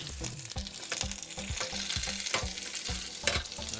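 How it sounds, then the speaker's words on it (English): Asparagus frying in melted butter in a pan, a busy, crackling sizzle with a regular run of low thuds and knocks from stirring, moderately loud and steady throughout with no talk. "Get that melted. and then we're going to throw straight in our asparagus."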